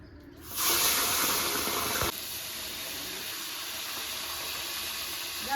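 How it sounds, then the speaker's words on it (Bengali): Tengra fish hit hot oil and fry with a loud burst of hissing sizzle that then settles into a steady, softer crackle, close by with no talking. "এবার এই ট্যাংরা মাছগুলো ভেজে নেব।"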